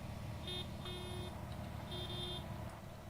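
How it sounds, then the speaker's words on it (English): A depot whistle on a Western Region MPV in Train Simulator Classic gives three short electronic beeps, the middle one longest, over a steady low engine rumble in the cab. "What I find cool is we've got the little beep, the depot whistle."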